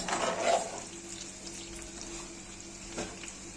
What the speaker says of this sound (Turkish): sucuk, salam, sosisimizi hepsini karıştıracağız